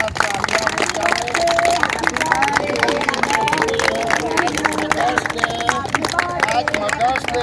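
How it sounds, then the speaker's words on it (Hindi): At an outdoor gathering on Juhu Beach, a crowd claps loudly and steadily, scattered sharp claps mixed with murmuring voices and background babble throughout. "तो संतोष जी और गीता जी के लिए जरा जोरदार तालियां बजाओ"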